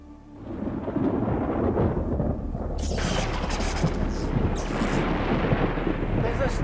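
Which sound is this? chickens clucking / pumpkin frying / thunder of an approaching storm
thunder of an approaching storm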